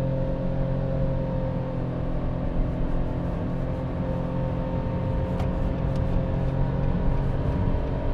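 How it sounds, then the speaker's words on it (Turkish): A Nissan Micra with a CVT gearbox under full-throttle acceleration from inside the cabin: a steady, droning engine note that holds nearly constant pitch, with no talking. "Mesela dip gaz yaptım şu an. CVT şanzımanın tepkilerini de duymuş olursunuz."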